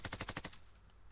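Rapid automatic gunfire in Call of Duty: Warzone, a loud close burst of about seven evenly spaced shots lasting half a second, then a fading ringing tail and low ambience.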